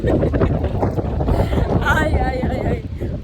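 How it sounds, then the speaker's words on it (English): Strong wind buffeting on a sandy beach at Kalk Bay, a loud continuous roar and rumble that fills the whole clip, with voices faintly mixed in underneath. "The wind."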